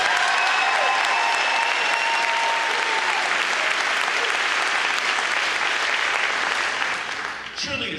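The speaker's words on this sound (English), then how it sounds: "give our students a great round of applause" A large school district convocation crowd gives students a loud, sustained round of applause with scattered cheers and whistles, the clapping holding full strength before thinning out near the end.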